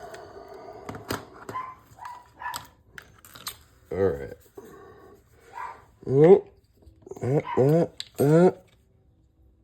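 A small, loud dog barks at someone passing by in short, sharp bursts, with a few single barks and then a quick cluster near the end, mixed with nearby talking and light clicking.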